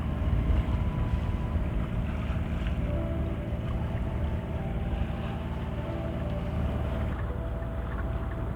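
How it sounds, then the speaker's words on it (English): A sailing boat motors gently under engine through Shetland waters, a steady low engine drone with wind rushing across the microphone throughout. "just a gentle motor down looking at the wildlife"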